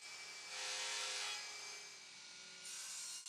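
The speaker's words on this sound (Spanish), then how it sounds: "en la mesa de fresado quiero hacer un rebaje que alojará el extremo de las tablillas" A router table cuts a rebate into beech wood for the ends of crib slats, giving a steady, close, high whining cut that swells and eases over a few seconds, with no talking.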